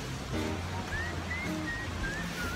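Ushitaki river waterfall in autumn rushing steadily, a broad continuous roar of water close by, with faint higher tones above it and no talk.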